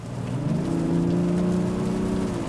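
A Mazda CX-60 engine revs up hard under acceleration, a steady loud mid-pitched roar that climbs and holds, with no talking.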